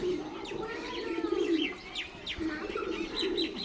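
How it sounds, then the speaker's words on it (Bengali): A steady chorus of pigeons cooing close at hand, low murmuring calls rising and falling continuously, with bright chirps scattered above and no voices. "পায়রা নিচে ছাড়া আছে"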